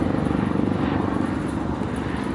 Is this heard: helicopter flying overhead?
yes